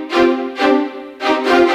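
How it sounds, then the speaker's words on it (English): A high strings ensemble patch from an orchestral sample library plays four swelling sustained chords, each rising and easing off, close and full with no other sound. "strings high ensemble that would sound like this solo"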